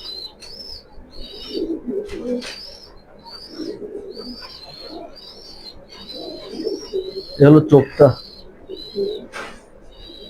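Big-size pigeons in a loft coo and chirp in repeated short calls, with someone speaking close by over them.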